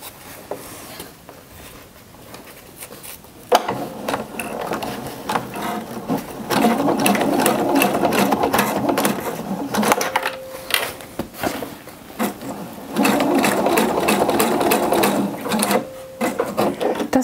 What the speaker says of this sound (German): Ich habe die Nadel ganz nach links gestellt, sodass ich jetzt ziemlich knappkantig an der Öffnung nähen kann.